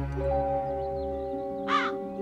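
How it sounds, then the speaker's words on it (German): A single short crow caw sounds over a steady low musical drone in the Satinavs Ketten video game. "So, jetzt haben wir die erste Krähe."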